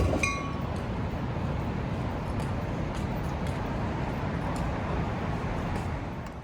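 A train pulls into a Chicago station, its broad rumble steady and close, with a few faint metallic clinks and squeals at the start before the sound slowly fades.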